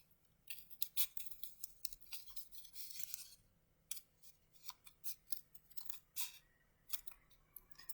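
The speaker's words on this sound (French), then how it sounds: "vous pouvez leur faire découper à chaque fois un lapin" Scissors snip through folded paper to cut out Easter bunny shapes for a garland, a close run of crisp, irregular cuts with short pauses, no voices.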